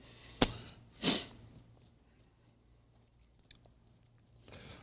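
Beef jerky being chewed close to the mic, two loud crunchy bites early on followed by quieter, sparse chewing with a faint hum underneath.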